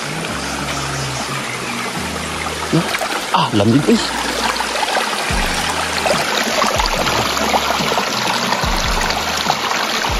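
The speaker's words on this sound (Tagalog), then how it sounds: "Tubig dito." Water flowing steadily in a mountain stream makes a continuous broadband rush throughout, with people talking over it.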